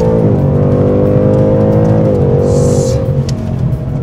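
A Ford Mustang Mach 1 engine revs up with a steady throaty roar, pitch rising and shifting, close by, with no talking.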